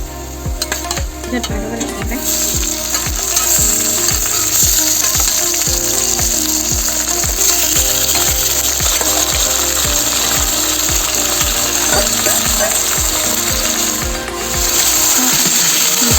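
Marinated chicken with sugar and meat masala is added to a pan of hot oil, filling the clip with a loud, dense, continuous sizzle and rhythmic clattering, close and steady throughout with no speech.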